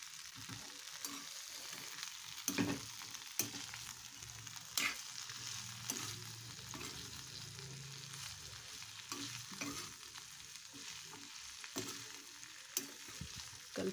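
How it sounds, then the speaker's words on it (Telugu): Okra frying in a pan is stirred from bottom to top, a steady oil sizzle broken by scraping spoon strokes against the pan, close and moderately loud, with no talking. "ఒక్కసారి దీనిలో కింద నుండి పై వరకు తిప్పేసి"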